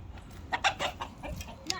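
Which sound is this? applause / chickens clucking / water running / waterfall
chickens clucking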